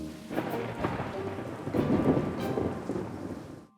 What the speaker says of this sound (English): fear of thunder and lightning